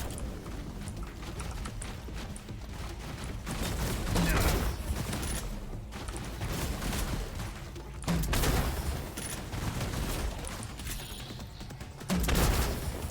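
Grenade spam and gunfire in System Shock Remaster, with dense bursts of blasts and shots rolling on almost without pause, surging louder in several waves, with faint talk underneath.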